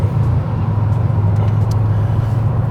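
Porsche 964 Turbo engine idling and rolling slowly into a parking area, a loud continuous low rumble heard close from inside the car, without speech.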